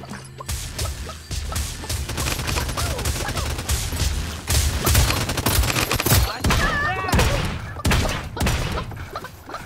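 Gunfire in a Realm Royale duos match, dense close volleys of shots and impacts that rise and fall across the whole stretch, with a few whooshing effects and faint speech under the noise.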